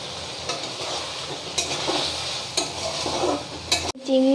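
Fried prawns and green chillies are stir-fried in a pan, a close, bright sizzle with rhythmic scraping of the spatula before a short, clean break near the end.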